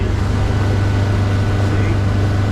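A boat powered by a Yamaha F150 outboard motor runs at a lower cruising speed, giving a steady, loud low engine drone throughout with no speech over it.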